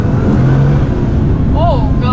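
A Bugatti Veyron Super Sport engine revs in a loud, continuous low roar close by, with a voice talking over it.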